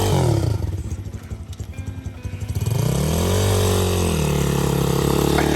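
A 2021 dirt bike engine revs hard and close, its pitch climbing into a sustained high roar as the bike rides off, with no voices over it.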